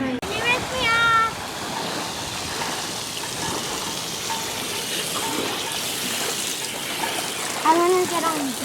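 Running water spraying to rinse a child off at a beachside sailing spot, a steady close hiss of flowing water throughout, with voices talking over it.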